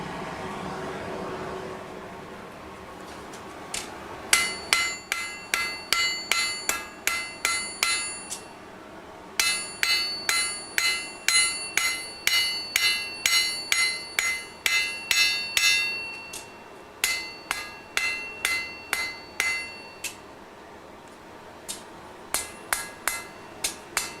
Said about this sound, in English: I'm gonna fold it to make the point, and then you have to forge the point